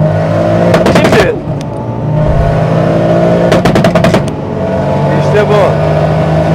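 An automatic Toyota Supra making 1000 HP revs hard and accelerates. The engine roars loudly and steadily throughout, with rapid crackling pops bursting out twice. No speech is heard over it.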